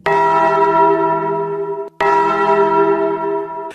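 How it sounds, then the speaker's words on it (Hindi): Temple bells ring together in two loud, resonant strikes, each leaving a long metallic hum that fades slowly. "मंदिर की सारी घंटियां एक साथ बज उठी"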